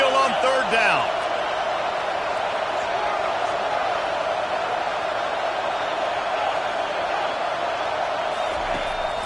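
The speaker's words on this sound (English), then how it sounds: "Here comes this home crowd as the defense tries to get off the field on third down" A home stadium crowd at a Notre Dame versus Miami football game roars steadily on third down, a broad sustained wash of cheering with a commentator talking over it.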